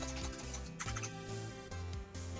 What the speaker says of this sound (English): I heard what sounded like a clattering keyboard.